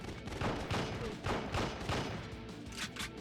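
Gunshots in a PS2 lightgun shooting gallery game, a quick series of about six or seven punchy shots at an even rhythm, fairly loud and close.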